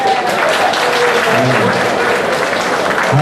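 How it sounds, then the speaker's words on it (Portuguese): An audience at a national congress of retirees applauds, a dense, continuous burst of clapping filling the hall at steady loudness. "Uma salva de palmas para o"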